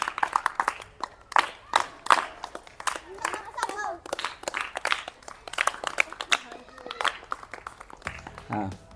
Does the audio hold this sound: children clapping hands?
yes